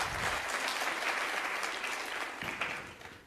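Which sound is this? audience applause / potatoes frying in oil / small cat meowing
audience applause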